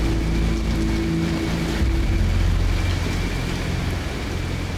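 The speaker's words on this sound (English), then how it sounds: "It's a thick storm." Heavy rainstorm pouring steadily during an overland trip in Madagascar, a dense constant roar of rain with low rumbling underneath, loud and continuous throughout with no voices.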